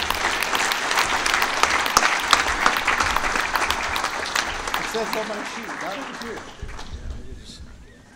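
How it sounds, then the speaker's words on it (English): Audience applauds an awards ceremony champion at the NHRA North Central Division awards, dense clapping filling the room for several seconds, then thinning and fading, with some voices mixed in. "Ladies and gentlemen, a round of applause,"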